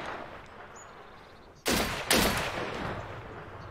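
Grenade launcher fire in the Deadside video game: two sharp, loud blasts about half a second apart, each leaving a lingering broadband rumble over a low ambient background.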